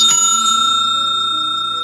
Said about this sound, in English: hit the notification bell for more videos